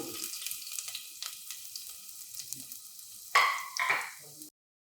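Chopped garlic and ginger hit hot oil in a pan for a Kerala-style fish molee, a steady soft sizzle that jumps into a louder crackling burst near the end, with stirring and no talk.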